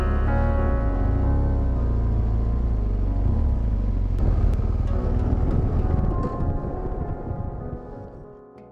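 A motorcycle engine rumbling low and steady at close range while parked at a village car park in the Montagne Noire, then fading and dying away near the end.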